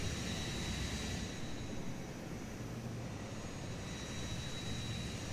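Airport ambience with blower and extractor from a ToLiss A321 flight simulator sound pack: a steady, even roar with a faint high whine holds at a constant level throughout, with no voices.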